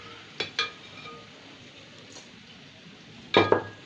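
Dried fish fries with onion and garlic in mustard oil as a low, faint sizzle, broken by a few sharp clinks of a utensil against the pan near the start and again near the end.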